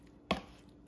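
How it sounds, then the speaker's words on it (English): A single sharp knife chop strikes a cutting board while ingredients for a Creole bruschetta are cut, close and crisp, followed by quiet. "So I'm just going to start chopping them."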